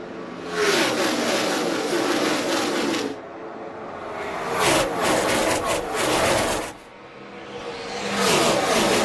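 NASCAR stock cars roaring past on track during the Sprint All-Star Race, loud engine waves rising and falling as the field passes, with crowd and track noise underneath.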